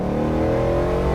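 A Ford Bronco's 5.0 Coyote V8 revs through a Borla stainless exhaust, a loud, steady, rowdy low growl held close and continuous with no talk over it.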